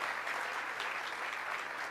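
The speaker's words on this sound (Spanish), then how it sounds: "sí, un aplauso" Continuous applause from an audience at a university infrastructure finance event, an even, moderately distant wash of clapping with no pauses.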